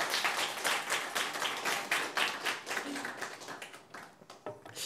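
Congregation applauding at an Easter Sunday church service, a dense wash of many hands clapping at a steady level that thins out near the end.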